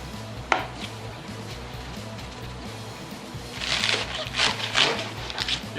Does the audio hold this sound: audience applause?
no